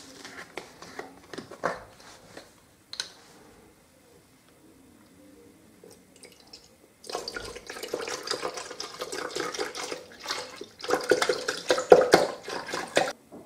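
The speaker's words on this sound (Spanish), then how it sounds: "Y ahora echaremos el litro de leche." A litre of organic milk is poured for homemade yogurt, with a brief liquid splash early on and then a steadier, louder stream of pouring in the second half.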